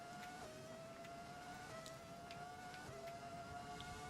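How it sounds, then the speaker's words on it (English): 2003 Formula 1 car with a V10 engine in the video game F1 2020, a high whining engine note that climbs and drops through repeated gear shifts, fairly quiet and steady, with no talk. "This is 2003, so this car has a V10"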